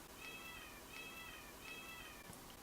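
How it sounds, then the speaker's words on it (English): A pet cat meows three times in quick succession, faint and somewhat distant over a hissy background, each cry short and slightly descending. "That's my cat."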